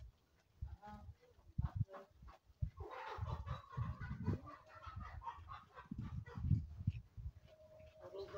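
Black chickens cluck and squawk in short bursts nearby in a village garden, with other farmyard fowl calls scattered through and a quiet ambient background.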